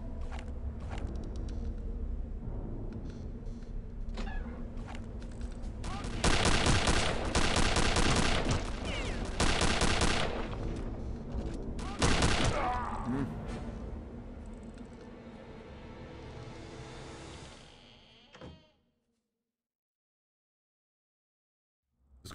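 Bursts of fire from a rapid-fire rifle in Return to Castle Wolfenstein, with dense loud volleys in the middle stretch and mechanical clatter around them, fading out before a sudden silence near the end.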